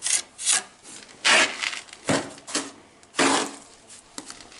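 A trowel scrapes mortar onto the edge of a concrete block in short, rough strokes, about six or seven of them in uneven rhythm, close and moderately loud, with no talk.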